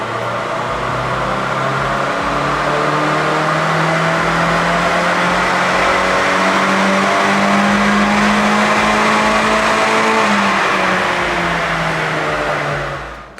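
A Honda car with a D17 engine revs hard on a dyno, one loud sustained pull whose pitch climbs steadily for about ten seconds before the engine lets off, with no one talking.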